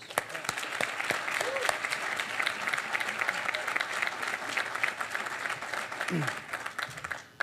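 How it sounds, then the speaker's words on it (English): A small outdoor crowd at a groundbreaking ceremony gives a steady round of applause, moderately loud and even throughout, with a few scattered voices underneath before it tapers off at the end. "So I just want to give them a round of applause."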